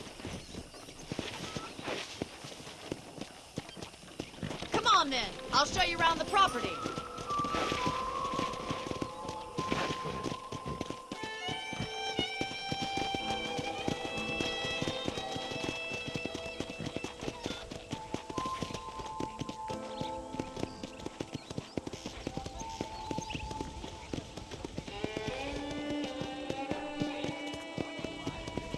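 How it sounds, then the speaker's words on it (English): Horse hooves clip-clopping at a walking pace in the Red Dead Redemption video game, steady soft footfalls alongside musical tones, with someone speaking briefly early on. "I picked out a fine horse for you."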